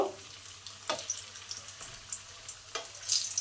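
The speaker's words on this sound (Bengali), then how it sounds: "এইভাবেই দোকানে চপগুলো ভাজা হয়, একবারে 100 ভাগ চপ ভাজা হয় না।" Shop-style crispy fish chops deep frying in hot oil give a bright crackling sizzle, with sharp bursts and spatters over a low steady hiss, louder near the end.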